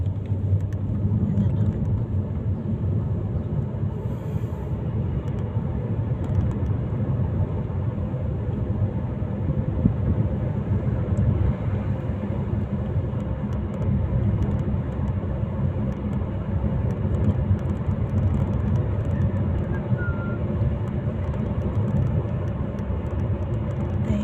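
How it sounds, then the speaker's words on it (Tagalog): Road traffic rumbles continuously, a steady low wash of passing vehicles at moderate distance with no clear breaks, only small swells as cars go by. "Traffic ang daan."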